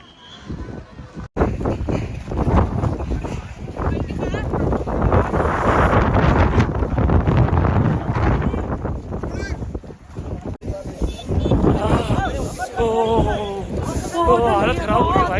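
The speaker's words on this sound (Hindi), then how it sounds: "इतनी ठंड, ऊपर से इतनी तेज़ हवा।" A strong, cold wind roars without pause at the high Nathula Pass near an iron shed, a loud buffeting rush that pounds the microphone, with voices talking over it toward the end.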